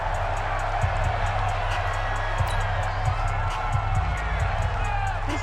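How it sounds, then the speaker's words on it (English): Stadium crowd noise inside a dome in the Madden 20 football video game, a steady dense roar with occasional cheers and whoops, continuous and fairly loud beneath a play-by-play commentator's voice. "The crowd here in the Dome making things difficult."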